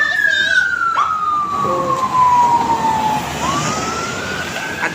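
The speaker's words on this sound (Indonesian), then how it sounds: "tuh ada ambulan yang ngeong-ngeong" A police car siren wails in a long falling and rising sweep on a street at night, close and loud over constant traffic rumble, with a brief spoken word in the clip.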